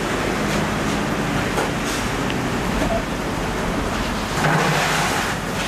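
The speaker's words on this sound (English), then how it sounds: "Rain kicked in yesterday, still coming." Steady rain falls on a hazy, overcast day, a dense continuous hiss with no breaks, loud and close throughout.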